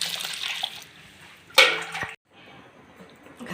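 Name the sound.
pouring water to wash wheat starch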